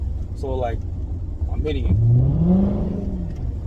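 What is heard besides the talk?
Hyundai Genesis 5.0 engine revving with Roar throttle pedal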